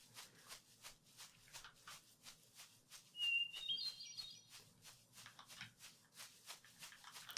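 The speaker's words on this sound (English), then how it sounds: "Alright, bird, if you're gonna make noise." A single bird in the video game Eidolon gives a brief, high chirping call partway through, heard over a quiet rhythm of soft rustling footsteps.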